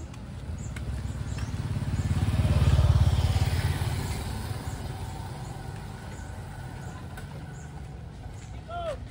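A motorcycle on a street in Davao rumbles past, its engine swelling to a peak after about two seconds and then fading, with other traffic and faint voices nearby.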